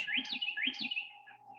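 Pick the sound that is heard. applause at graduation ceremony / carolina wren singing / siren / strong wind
carolina wren singing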